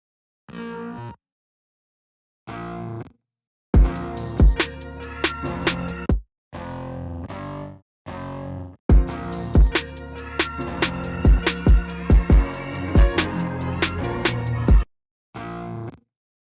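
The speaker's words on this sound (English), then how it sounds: "Let's see what that bassman sounds like." A bass patch from the Logic Pro X Bassman plugin plays in a hip-hop beat, with short choppy phrases and gaps of silence, then sustained bass notes under sharp, repeated percussive hits, without talking.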